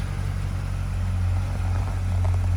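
A 2008 Corvette Z06 idles steadily close by with a deep, even low hum and no revving, running alone without talk.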